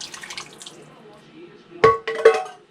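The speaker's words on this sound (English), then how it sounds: "you are going to just pour that into the broth" Canned seasoned diced potatoes tip into a pot of soup broth with two soft, wet splashes near the end, after a quiet stretch with faint kitchen noise.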